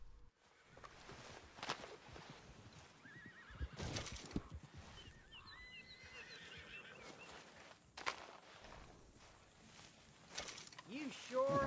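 A horse in Red Dead Redemption 2 neighs and whinnies several times amid clopping hooves, mechanical clicks and ratcheting game sounds, close and fairly loud with quieter stretches between.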